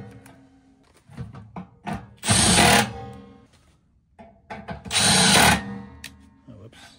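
A power drill drives screws into a Trane furnace in two short, loud bursts about three seconds apart. Clicks and handling knocks fall between the bursts, and there is no talking.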